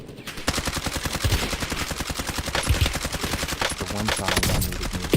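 Rapid automatic gunfire in the video game Black Ops 6 / Warzone, a dense rattling burst of shots continuing steadily throughout, loud and close, with a player's voice talking over it.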